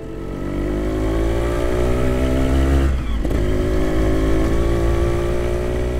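A Montesa Impala Sport 250 motorcycle engine runs loud and close with a steady, throaty drone. The revs rise gradually, dip briefly near the middle, then pick up and hold again.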